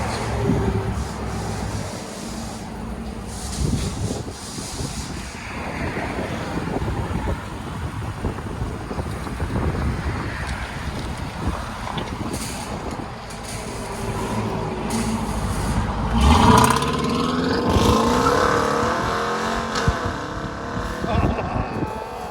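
Dodge Durango R/T with a 5.7-liter HEMI V8 and a mid-muffler delete, its deep exhaust rumbling steadily up close, swelling into a louder rev near the end, with speech mixed in at times.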